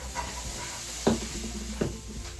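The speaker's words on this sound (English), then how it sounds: "If you hear that sound, that's my husband cooking dinner in the background." Faint home kitchen dinner-cooking sounds in the background: a soft sizzling hiss with two sharp clinks of pots or utensils.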